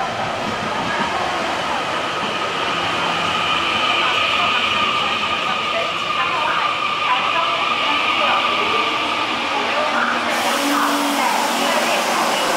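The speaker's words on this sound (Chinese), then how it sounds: "列车就进站了" A Taiwan Railways Puyuma express train pulls into a station, with a steady loud rumble and rolling rail noise throughout and a brief shift in tone near the end as it slows; a person speaks over it.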